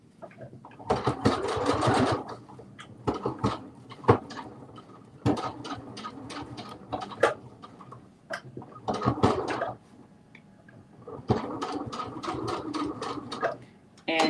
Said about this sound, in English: And I'm doing a little back stitch.